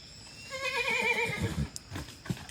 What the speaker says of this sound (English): Are those horses gonna attack us?